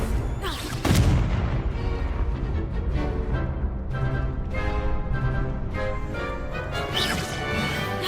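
The Confringo fire spell in Hogwarts Legacy goes off as a sharp blast, followed by dense, roaring battle noise and impacts that stay loud throughout.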